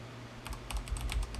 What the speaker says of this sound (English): we're going to type in dampening